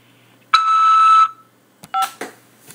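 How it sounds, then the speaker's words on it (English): A prison phone system sounds a single sustained electronic beep of about three-quarters of a second, clear and close, followed by a few short tonal blips and clicks. "After the beep, press 5 to accept this call."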